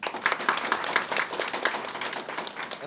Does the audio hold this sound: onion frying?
no